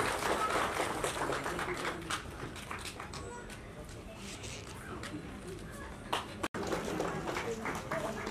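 An audience applauds at a retirement ceremony as a fire department supervisor is garlanded and welcomed, steady clapping throughout with talk and crowd noise mixed in.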